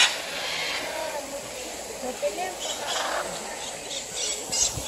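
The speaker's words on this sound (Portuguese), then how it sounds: "Gostei do parque, das araras, azul, verde." Blue and green macaws at a bird park give scattered squawks and shrill calls through steady outdoor hiss, with people talking nearby across most of the scene.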